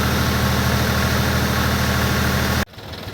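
Engine of a mini tractor idling steadily with a homemade sprayer running, a loud, continuous drone with a low rumble that cuts off abruptly near the end, leaving quieter background.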